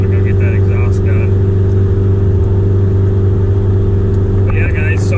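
An Acura TSX with a loud aftermarket exhaust accelerates gently onto a freeway, a steady heavy droning rumble filling the cabin without letup.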